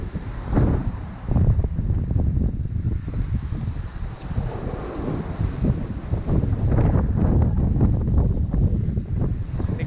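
Gale-force wind roars across a sailboat on Lake Michigan, buffeting the microphone with loud gusty rumbles, while sloshing water and hull noise run beneath the continuous blast.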